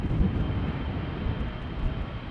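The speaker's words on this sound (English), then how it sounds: "The Dreamliner to Delhi" A Boeing 787-9 Dreamliner bound for Delhi departs runway 36L at Amsterdam Schiphol on a windy day, its broad, steady jet roar filling the air continuously without speech.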